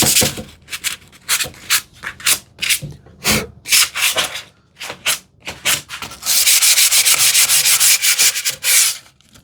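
Sandpaper rubs by hand over the corners of a wooden TV unit, with a run of short, separate strokes that becomes a faster, continuous scrubbing near the end, close and fairly loud with no talking.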